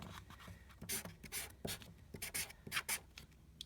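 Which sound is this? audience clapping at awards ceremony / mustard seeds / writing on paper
writing on paper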